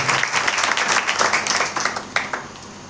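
A church congregation at a Christian gathering in Damanjodi, Odisha, claps together in a dense, continuous burst of applause that fills the room and tapers off near the end.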